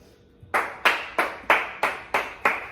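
Seven sharp hand claps ring out in a steady, evenly spaced rhythm, close and crisp, with a quiet pause before the first.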